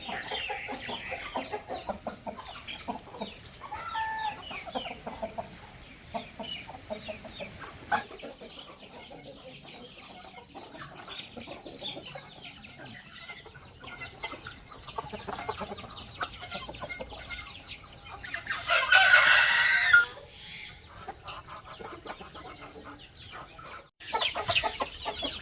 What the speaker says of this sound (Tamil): நம்ம கோழியெல்லாம் வெயிட்டிங்கில் இருக்குங்க.